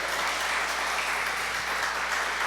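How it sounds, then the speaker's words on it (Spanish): A church congregation claps loudly in praise, a dense, steady roar of applause with no voices over it. "dele fuerte aplauso a Él"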